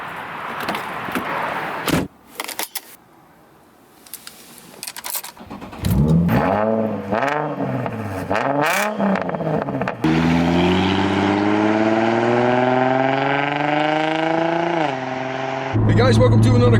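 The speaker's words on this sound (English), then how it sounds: "we are in a 2004 350Z, and it has straight pipes" A 2004 Nissan 350Z with straight-pipe exhaust, opening with sharp blips and crackles, then loud revving that climbs and settles into a sustained, steadily rising drone close by, with a fresh burst at the end.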